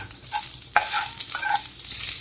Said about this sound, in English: But you do want to stir this stuff around and not let it burn